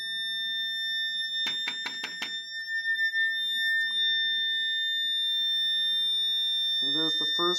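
Steady high 1800 Hz tone sounding continuously in a Kundt's tube, a pure whine with harmonics running throughout, broken briefly by a few clicks early and a voice speaking at the end.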